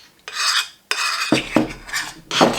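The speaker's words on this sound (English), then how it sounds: "I'm mixing with a spoon and my fork." A spoon and fork stir and scrape in a bowl, a sequence of gritty metallic rasping strokes with short pauses between them, close and clear with no talk.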